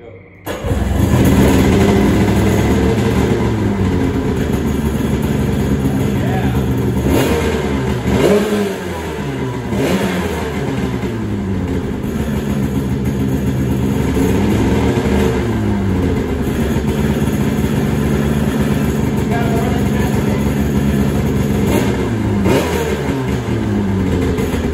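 1996 Seadoo GTS jet ski engine idling and revving after sitting for over ten years, loud and close, with rising and falling throttle blips over a steady run; people talk over it.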